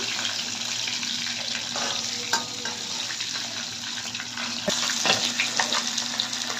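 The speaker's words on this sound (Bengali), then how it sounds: "মাছগুলো কিন্তু খুব কড়া করে ভাজবো না মোটামুটি এরকম ভাজা হবে" Rohu fish pieces frying in hot oil give a steady close sizzle throughout, with a few sharp clinks and spatters as they are turned, and louder crackling near the end.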